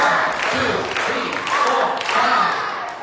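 Children at a vacation Bible school clap together in a dense burst, close and loud, with no talking over it.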